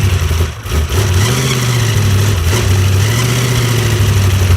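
Supercharged car engine rumbles loudly and unevenly right after starting, a rough, lumpy idle with a noisy blower drive whining above it, close and steady throughout with no talk.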